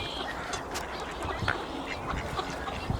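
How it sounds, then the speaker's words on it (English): Pintail and mallard ducks in a mixed flock outdoors, quacking in scattered overlapping calls over a steady busy background, moderately near. "There's a pintail."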